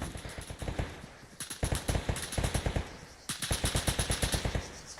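Machine gun fire in the Arma 3 military game, rapid bursts of automatic shots in three close, loud volleys separated by brief pauses, with no talk over them.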